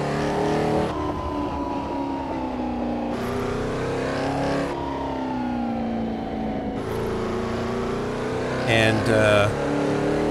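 A 1964 Porsche 904/8 racing car in Assetto Corsa, driven on the Targa Florio road course, drones steadily with engine pitch rising and dropping through gear changes while someone talks over it.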